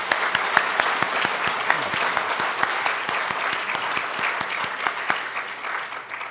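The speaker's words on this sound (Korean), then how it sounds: "우리 귀한 분들 뜨거운 박수로 환영해 주시기 바랍니다." Church congregation at a Korean revival service applauding warmly to welcome guests, steady dense clapping with some sharp individual claps standing out, loud and continuous throughout.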